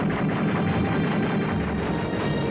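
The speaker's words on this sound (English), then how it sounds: "German anti-aircraft guns opened fire." German anti-aircraft guns firing up at droning C-47 transport planes crossing into France, with tracers rising. A dense, loud, continuous barrage of overlapping blasts and rumbling roar, with no voices.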